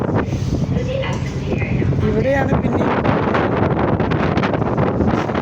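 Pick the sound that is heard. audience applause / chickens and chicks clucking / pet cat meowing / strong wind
strong wind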